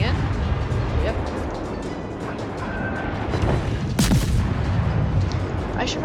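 Warship guns firing in World of Warships, heavy artillery booms and gunfire rumbling continuously with a sharp loud blast near the end, while someone talks over the battle.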